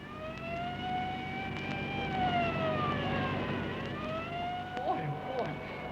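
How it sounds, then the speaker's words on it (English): A police car siren wails in rising and falling sweeps, close and steady for the whole stretch, over the hum of a moving car. "These police cars are sure made to go when they have to."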